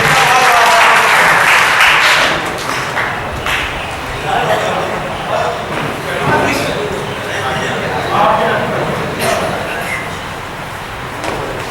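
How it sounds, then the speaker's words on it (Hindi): Audience applause at a mushaira poetry gathering in Malegaon, loud and dense at first, then thinning into scattered clapping as talk continues over it. "भरपूर तालियां बजा करके इस दुनिया के बेटे को मुबारकबाद दें"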